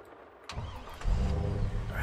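A truck in Farming Simulator 22 starts up: a short crank after near-silence, then the engine catches and settles into a loud, steady, rumbling idle close by.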